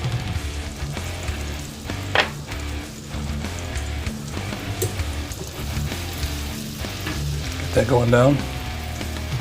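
Half a stick of unsalted butter and two cloves of minced garlic sizzle in a pan for buffalo sauce, a close, continuous crackle with occasional clatter. Someone speaks briefly over it near the end.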